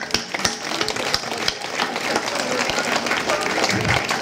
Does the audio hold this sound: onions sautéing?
no